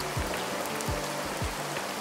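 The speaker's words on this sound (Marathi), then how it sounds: "पाऊस खूप पडतोय" Heavy rain falls in a dense, steady wash of noise with no pauses, close and continuous, with a few soft low thumps underneath.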